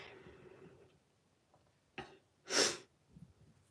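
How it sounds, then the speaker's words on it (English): A close, quiet sniff followed by a louder, sharp nasal sniffle, then softer breathing; no talking. "I'm sorry about the sniffling."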